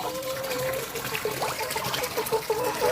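Water pours from a spout into a home fish-farming tank with a continuous splashing trickle and gurgle, close and fairly loud, with no speech over it.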